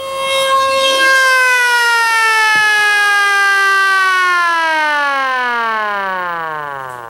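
Mechanical siren in a classroom demonstration, a loud sustained rising wail that holds steady and then slowly winds down in pitch and fades near the end, heard alone.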